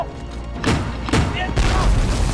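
Heavy gunfire in a wartime battle scene from an anti-Japanese war drama: several booming shots and thuds strike in quick succession over a constant rumbling din, with voices mixed in.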